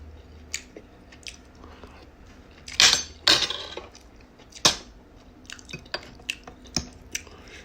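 Someone chews vegetables during a mukbang meal of smoked turkey leg, rice and gravy with California medley vegetables, giving wet, crunchy bites in a few louder bursts between quieter smacks, close to the mic.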